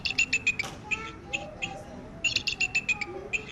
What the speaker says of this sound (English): It's a bald eagle.